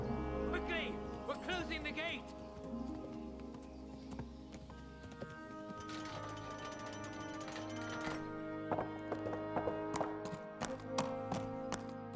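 Horse hooves clip-clopping in the medieval video game Kingdom Come: Deliverance, a steady run of light taps under ongoing speech and background crowd shouting, with sharper, more distinct hoofbeats toward the end.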